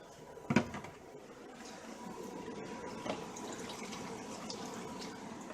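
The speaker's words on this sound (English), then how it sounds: "for what little bit is left in these, I'm going to pour in the traps" Leftover liquid is poured from jugs into the drain traps of a 2005 Keystone Retreat RV during winterizing, giving a faint, steady trickle with a soft knock near the start.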